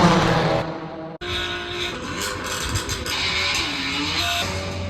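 A BMW car engine runs steadily and loudly at close range, with a brief cut near the start before the sound resumes at a sustained, rumbling level.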